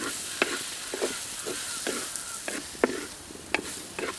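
A spoon stirs dry mutton curry, Rayalaseema style, with coriander powder and garam masala added, giving soft scraping and clinking strokes at a steady rhythm over a low sizzle from the pan.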